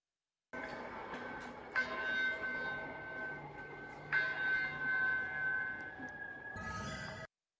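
Exam start bell for an OSCE practical exam, a sustained electronic tone with steady harmonics and two brief louder onsets, lasting several seconds on its own with no talking.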